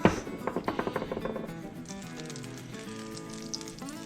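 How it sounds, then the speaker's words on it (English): Oil and butter sizzling in a pan, starting with a few crackling pops that settle into a steady hiss, with faint kitchen clatter. "Wait till she sizzles a little bit."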